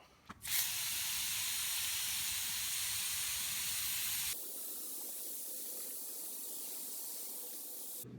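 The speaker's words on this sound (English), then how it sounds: "So that little mister setting on there works great." A hose nozzle on its mister setting sprays a fine water mist over seed trays with a steady hiss. Midway the spray drops to a softer, quieter hiss and carries on to the end.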